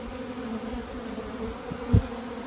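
Honeybees drone at the bottom entrance of a hive in spring, a steady low buzz close by with one louder brief thump or flyby near the end.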